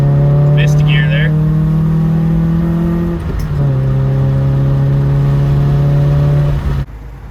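A Honda Prelude accelerates hard through the gears, its engine drone climbing steadily in pitch, dropping briefly at a shift near the middle, then climbing again, loud and close, with brief voices early on.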